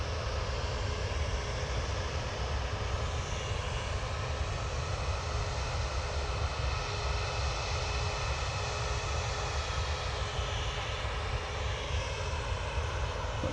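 A Ryanair Boeing 737-800 jet departs Manchester Airport with a continuous, broad engine roar at steady loudness for the whole stretch. No voices are heard.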